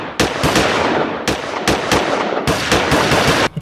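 Bursts of loud, close gunfire crack in rapid clusters, several sharp shots fired in quick succession with brief gaps between volleys, ending in a final isolated report.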